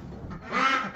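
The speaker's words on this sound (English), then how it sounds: "Got two ducks in here." A short, nasal duck call honks once up close, brief and fairly loud against quiet background noise.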